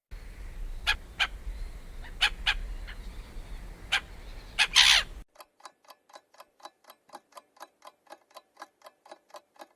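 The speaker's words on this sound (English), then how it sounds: "It's a seagull." A seagull gives several sharp, repeated calls, loud and close, with a steady clock ticking for the rest of the time after they stop.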